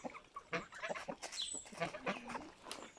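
A chicken or rooster clucks close by in quick, irregular bursts of short calls that carry on steadily through the moment, with no voices over them.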